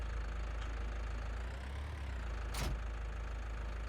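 A tractor engine idles in the farming game Farming Simulator 19, a steady low rumble with a constant drone, joined briefly near the end by a short hissing burst.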